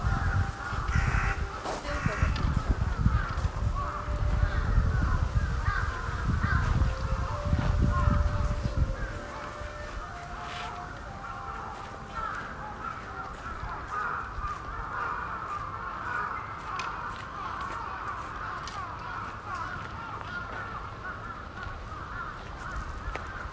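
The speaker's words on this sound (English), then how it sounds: "those birds are called kalas in Japanese, like a big black crow" Large black crows caw in the forest around a Tokyo shrine. Harsh, repeated calls sound from nearby and farther off, over a heavy low rumble for the first few seconds that then gives way to quieter woodland background.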